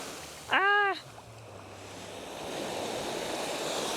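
Ocean surf washes onto a beach in Miami, a steady broad rush of waves rising slightly over a few seconds, with a short bright tonal chirp near the start before the water noise takes over; no talk.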